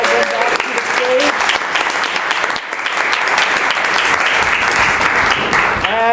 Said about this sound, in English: let's round up the applause back to the stage